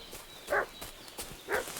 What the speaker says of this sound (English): the dog's still barking?